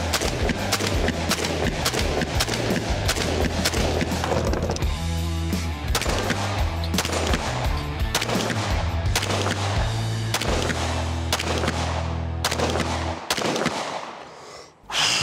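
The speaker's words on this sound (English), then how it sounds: "Came up on target to shoot that precision and literally watched my front sight climb above my rear, and I pulled the trigger." Gunfire from a competitor shooting at targets in a practical shooting match, a loud, rapid string of sharp shots close by, clustered in quick bursts with brief pauses.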